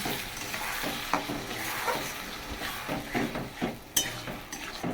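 Potatoes, onion and spices frying in an earthenware clay pot, with a low, steady sizzle under spoon scrapes and the occasional metallic clink of a utensil against the pot; nobody talks.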